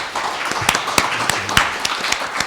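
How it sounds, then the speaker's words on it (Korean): Applause from a seminar audience at a Korean construction-industry policy roundtable, welcoming the moderator; a fairly dense patter of clapping with scattered sharper claps, steady for a couple of seconds and moderately loud in a hall. "박수로 환영해 주시기 바랍니다"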